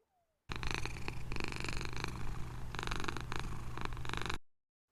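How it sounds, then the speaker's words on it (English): A cat purrs steadily and up close for several seconds, a continuous rumbling drone that ends abruptly. "Stay calm and keep purring."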